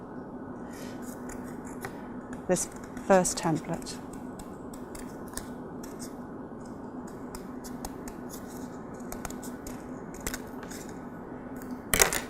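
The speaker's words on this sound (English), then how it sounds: "using scissors I'm going to cut out" Scissors snip through folded cardboard along a paper template in a few short, close clusters of crisp cuts, separated by quiet pauses, with a person talking briefly.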